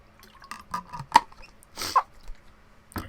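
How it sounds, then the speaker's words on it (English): A person takes a drink of water, with a few faint sips and swallows spread out as separate soft sounds in a quiet room. "I'm going to have to take a drink of my water before I cough all over the place."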